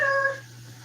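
A cat gives a single short, bright meow in a kitchen, close and clear, fading quickly into a low steady hum.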